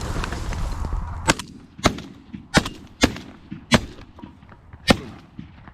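Shotgun blasts during a late-season goose hunt outdoors, six sharp loud reports in an irregular series about a second apart, each trailing off quickly, over faint background noise.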